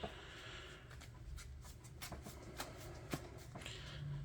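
Quiet, close riffling and soft slapping as a deck of Yu-Gi-Oh cards is shuffled, a run of brief repeated taps over a low steady background.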